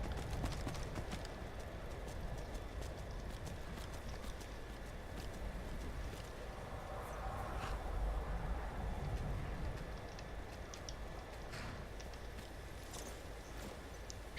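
Horse hooves clip-clop at a steady walking rhythm in the Skyrim video game, moderately loud over a constant background wash of ambient game sound.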